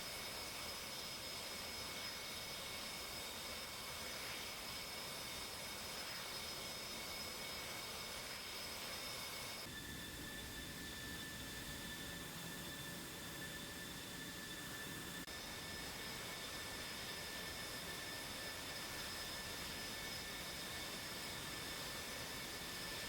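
F-18 jets in a flight simulator game give off a faint, steady engine whine and hum that holds without a break, shifting tone slightly partway through, with no talk over it.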